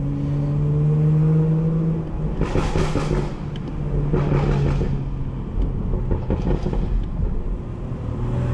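A 2018 BMW 440i xDrive on city streets, engine droning then blipping sharply in several loud throttle bursts as it downshifts, each rev spike flaring briefly over the steady cabin rumble.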